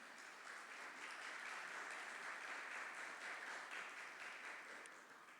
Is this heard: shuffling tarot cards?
no